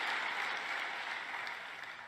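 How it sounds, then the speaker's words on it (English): Brief, light applause from an audience during a speech, a steady patter of many hands at moderate level that holds for about two seconds without speech over it. "Light applause for that."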